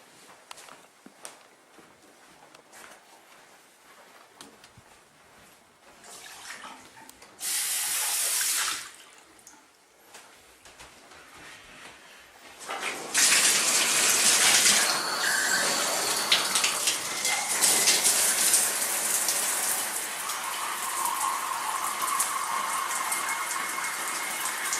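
A bathroom shower runs, first a brief burst of spray, then after some quiet handling sounds the water comes on fully, hissing and splattering steadily and loudly for the remainder.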